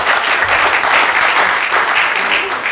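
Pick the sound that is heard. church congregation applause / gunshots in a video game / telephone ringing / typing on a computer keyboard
church congregation applause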